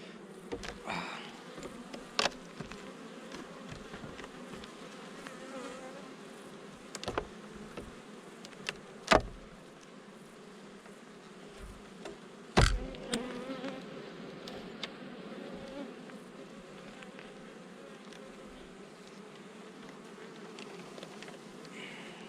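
Honey bees drone steadily in an open beehive while it is checked and prepared for winter, a close continuous buzzing punctuated by a few sharp clicks and knocks from handling the hive.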